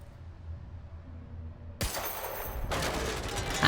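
Gunfire in the video game Quantum Break, a sudden loud burst that breaks into continuous crackling, shattering noise after a quiet, low-humming lead-in.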